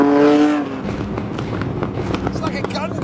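An 1980s Ferrari Testarossa's engine roars for a few seconds. A brief high revving note fades into a crackling, popping exhaust rattle, heard close and loud, with someone talking over it.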